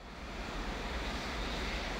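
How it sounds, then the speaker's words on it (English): A faint, steady aircraft engine drone in the video game Vertical Strike, a continuous low rumbling roar with no talking. "there are some aircraft"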